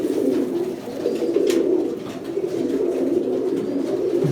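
Many pigeons coo together inside a pigeon farm, a thick rolling low chorus that swells and dips slightly but never stops, with no voices.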